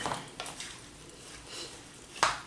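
Quinoa apple salad with peppers being tossed in a bowl, a few light scraping and clinking utensil knocks against the dish, with one sharper clack near the end.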